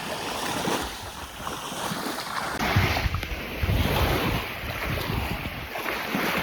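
Sea water at high tide on the southern coast of New Caledonia, heard as a continuous wash of waves and surf close by, with wind buffeting the microphone throughout.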